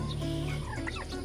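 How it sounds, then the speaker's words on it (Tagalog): Native turkeys gobbling, a flock of three toms kept for fertile eggs; close, warbling gobbles with clucking over a steady low hum. "Mga native natin. Pabo."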